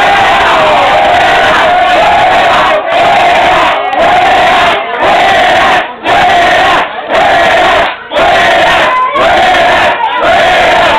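Crowd at a Halloween costume event in Duitama, Boyacá cheering and shouting in loud, sustained bursts with brief pauses between roars.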